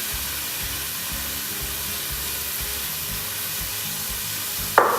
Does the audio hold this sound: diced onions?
yes